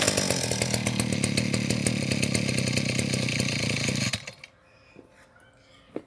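Petrol brush cutter engine running loud and buzzy at high revs, then cut off abruptly, leaving a quiet space with a few faint knocks.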